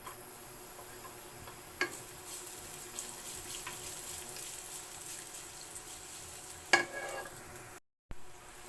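Garlic sautés in a pan, giving a steady, soft sizzling hiss throughout, broken by a couple of sharp utensil clicks and a brief dropout near the end.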